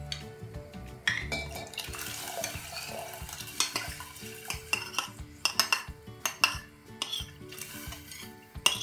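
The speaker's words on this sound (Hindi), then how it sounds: "अब हम इसमें अरहर की दाल डाल देंगे।" Arhar dal poured into a pot of boiling water, then stirred with metal utensils that clink and scrape against the pot over a soft bubbling hiss, in short irregular bursts nearby.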